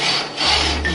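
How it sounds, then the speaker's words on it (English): A saw cutting through shotgun barrels, heard as loud, close, harsh rasping strokes, roughly two long passes with a brief dip between them, with no talking. "In October of 1989, after sawing off the barrels himself, Randy Weaver sells the guns to Magisano."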